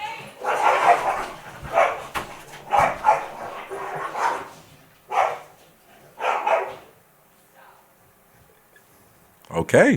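A dog barks in several loud bursts spread over a few seconds, with a pause before one last close bark. A voice briefly speaks.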